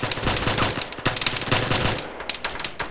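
Video game gunfire comes in rapid automatic bursts and single shots, loud and dense, with echoing cracks overlapping across the whole stretch and no speech.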